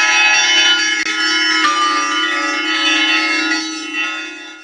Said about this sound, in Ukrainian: Вона відома своїм дзвоном, якому майже 8 сотень років.